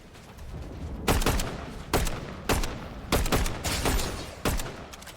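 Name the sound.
gunfire in a video game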